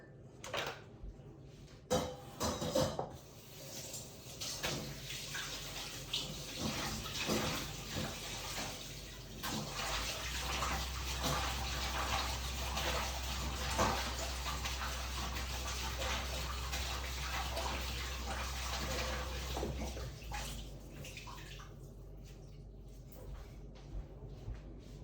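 Tap water runs steadily while a yogurt container is rinsed under it, splashing and knocking softly, with cupboard-like clunks near the start and the flow stopping near the end.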